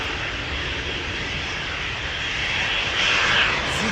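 A German Airways Embraer 190, flying for KLM, departs Amsterdam Schiphol for Bremen with a continuous jet roar and a hissing whine that swells slightly near the end, close and loud, without talk.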